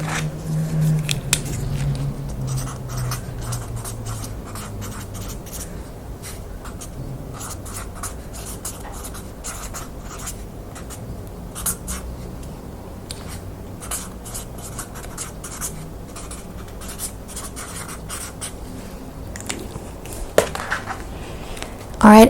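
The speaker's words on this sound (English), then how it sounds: "so I'm going to write that down as well" Pen or pencil writing on paper, a soft, continuous scratching with small strokes and rustles, close and fairly quiet, with no one speaking.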